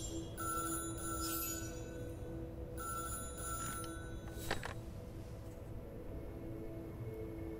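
A telephone rings in the game Syberia: The World Before, with two bursts of a repeating bell-like trill over a low ambient hum, followed by a brief sharp click.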